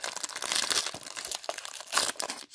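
Thick plastic wrapping crinkles and rustles up close as a trading card pack is torn open, a continuous busy crackle with brief louder crunches.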